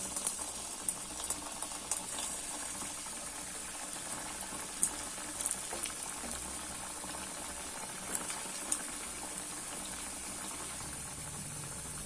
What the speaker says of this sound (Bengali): এইগুলো এবার আমি লাল লাল করে একটু ভেজে নেব